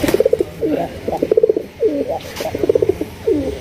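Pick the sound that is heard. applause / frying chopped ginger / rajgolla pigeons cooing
rajgolla pigeons cooing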